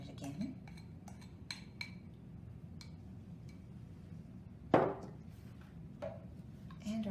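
A spoon scraping and clinking against a container of melted butter, a series of light metallic taps and scrapes with one louder knock, close and quiet in a kitchen.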